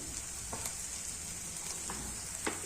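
Turmeric and red chili powder going into hot oil for a village-style drumstick pod curry, giving a faint, steady sizzle with a few soft scraping stirs, heard alone.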